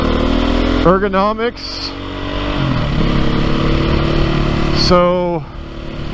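A 2022 Beta 430 RR-S dirt bike engine drones steadily at low revs while riding, with a voice talking over it in short bursts.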